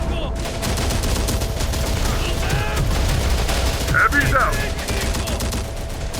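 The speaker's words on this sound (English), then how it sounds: "Damn, this guy's just going at it with that machine gun." Sustained machine gun fire rattles continuously through a video game battle, a dense fusillade mixed with game noise and effects, with no clear pauses.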